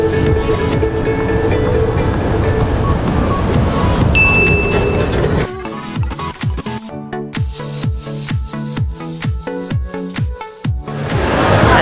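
A light rail train in the Philippines rumbles loudly, then settles into a rhythmic clickety-clack of wheels over rail joints as it runs along the track.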